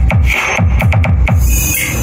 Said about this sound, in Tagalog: Yan yung sounds nung pop.